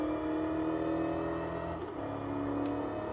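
A car engine in the racing video game Gear Club Unlimited 2 holds a steady, loud whirring drone with a slight dip in pitch midway, heard alone without talk.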